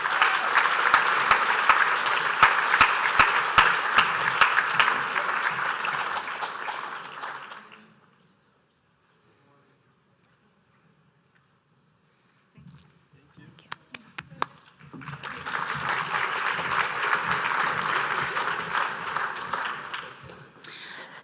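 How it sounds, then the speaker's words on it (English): Applause at an Indiana soybean reception honoring a student team, a loud, dense round of clapping that fades out, followed by a quiet gap and then a second swell of clapping from the crowd. "Let's give them another round of applause."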